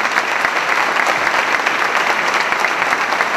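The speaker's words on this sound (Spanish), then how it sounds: "un merecido aplauso para todos" Steady applause from a concert audience at a Christmas Eve charity choir concert, a dense unbroken patter of clapping with no speech over it.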